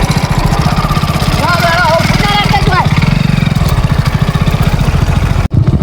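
A tractor engine chugs steadily at close range with a low, regular thumping throb, while voices are heard briefly over it.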